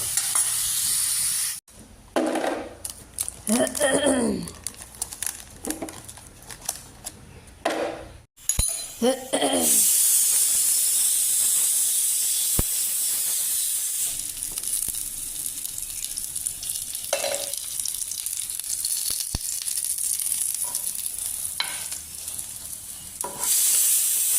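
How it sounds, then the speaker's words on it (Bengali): Carrots, potatoes and crab fry in a pan in a home kitchen, a steady close sizzle that hisses on for most of the stretch after some clinks and stirring at the start. "আর ভাজি করতেছি গাজর, আপনার আলু আর কি বলে কাঁকড়"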